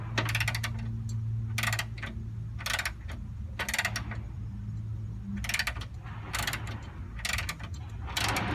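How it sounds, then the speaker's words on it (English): A torque wrench ratchets on the control arm bolts of a third-gen Camaro in a series of short, crisp clicking bursts separated by pauses, close and fairly quiet over a steady low hum. "then we're going to put the torque wrench on it"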